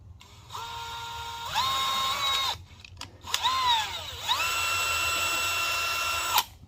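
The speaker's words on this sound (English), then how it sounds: "so I can take the drill and take a bigger drill bit and go through the back side" A power drill whines in several bursts while drilling a hole during car audio wiring work on a K5, its pitch rising and falling as it bites into material, with brief pauses between runs, close and fairly loud.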